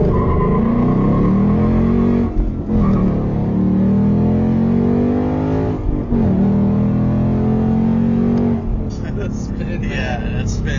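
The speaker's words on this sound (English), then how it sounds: "It has launch control, so you just slam the gas." A Ford Mustang GT S550 launches hard on launch control, its engine roaring loud and close in long rising pulls broken by brief gear-change dips, with tire chirps near the end.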